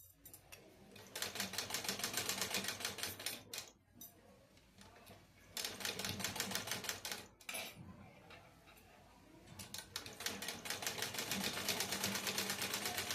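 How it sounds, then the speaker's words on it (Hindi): A sewing machine stitches a katori blouse in fast, even bursts of rapid ticking, running for a few seconds, pausing briefly, then starting again, close and clear with no talk. "उसके बाद हल्के हाथों से धीरे धीरे सिलाई करते जाना है।"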